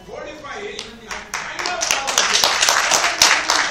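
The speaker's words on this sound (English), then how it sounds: "One clap out of the whole night." Clapping from an audience at a talk on Vedic pseudoscience at IIT Madras, building from scattered claps into a dense patter under talking voices.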